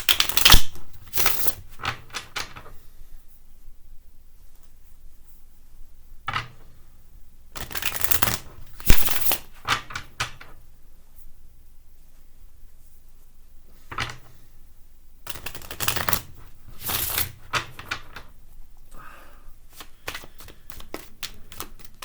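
A deck of cards shuffled during a spirit guide reading, with crisp riffling bursts repeating in several clusters separated by quiet pauses, close and fairly soft, no talk.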